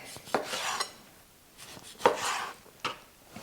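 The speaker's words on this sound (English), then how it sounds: "I'm just going to start to cut it up in cubes" A knife chops meat into cubes on a board, giving several separate close cuts and knocks spaced unevenly, with no talking.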